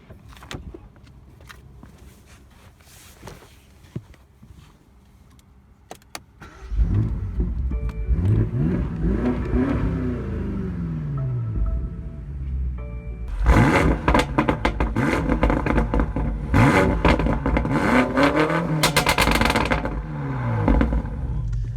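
A BMW M5 Competition engine idles quietly, then roars to life and revs hard through several loud accelerations, with rising and falling engine pitch close by.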